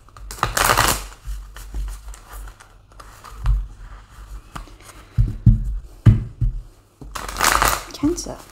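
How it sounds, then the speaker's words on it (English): Tarot cards are shuffled by hand in quick riffling bursts near the start and again near the end, close and crisp, with softer handling taps and shuffles between them. "Let's give it a good shuffle."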